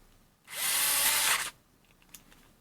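A SKIL Twist 2.0 4V rechargeable electric screwdriver whirs loudly for about a second, strains under load and stops abruptly at stall, followed by faint handling clicks.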